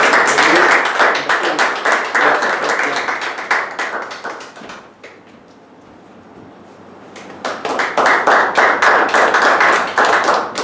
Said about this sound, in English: Please help me giving a big round of applause